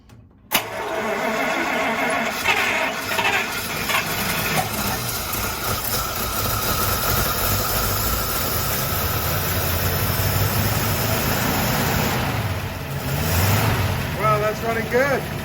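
A 1948 Buick Roadmaster Woodie estate wagon with DynaFlow and a freshly primed carburetor cranks and catches after a short silence, then settles into a steady, loud idle that runs on with faint voices underneath.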